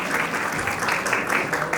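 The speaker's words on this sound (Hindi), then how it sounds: "तालियां बजाइए समक्ष के लिए" Audience clapping at a play school annual day, a steady, fairly loud patter of many hands filling the short stretch without pause.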